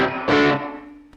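Electric guitar through a Boss DD-3 delay pedal in short delay mode: a sustained chord, then a louder strummed burst whose echoes smear into a reverb-like tail, with a faint pluck just before the end.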